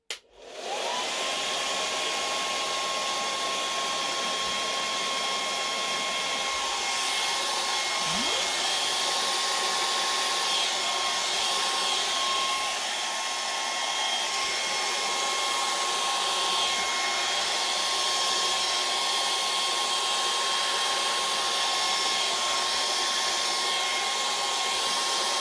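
A hair dryer blows steadily over a Dutch acrylic paint pour in ocean colours, a loud continuous whoosh starting abruptly and running unbroken near the microphone without any talk.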